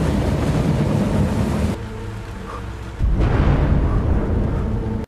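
Light drizzle falls in a forest, a dense steady hiss of rain with a low rumbling undertone that drops briefly and then swells again. No voices.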